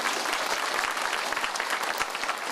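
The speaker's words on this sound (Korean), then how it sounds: "여러분 박수로 맞아주시기 바랍니다." A seated audience at a televised lecture hall gives loud, continuous applause to welcome a professor onto the stage, a dense wash of clapping with no talk over it.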